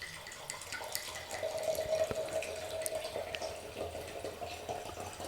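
Wine poured from a bottle into a plastic cup at a winery, a soft continuous trickle and splash of liquid running for several seconds close by, with faint room noise and no talk.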